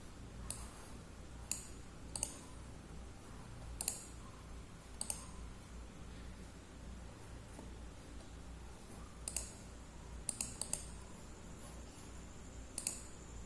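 Computer mouse clicking: a dozen or so sharp, quiet clicks at irregular intervals, some in quick pairs, over a faint steady room hum with no talking.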